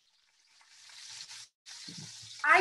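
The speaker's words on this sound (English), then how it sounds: "So let's go fry the fish." Fish sizzles in a frying pan with a soft, steady hiss that builds, pauses briefly, then resumes with a louder crackle at the end; no talking.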